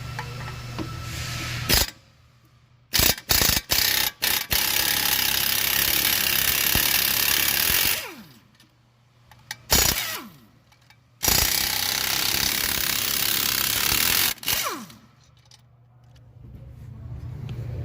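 Flexzilla air impact gun rattling on Ford Escape lug nuts in a shop, several loud close hammering bursts of a second or more separated by short pauses and air hiss, no speech.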